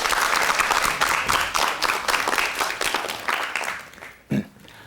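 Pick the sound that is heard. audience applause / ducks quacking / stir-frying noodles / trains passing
audience applause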